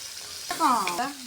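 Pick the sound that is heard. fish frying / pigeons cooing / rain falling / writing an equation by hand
fish frying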